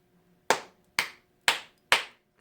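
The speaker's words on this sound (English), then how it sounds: "clap your hand." Four crisp hand claps ring out alone at an even, unhurried pace about half a second apart, close and clear with quick decay, during a children's circle-time song session.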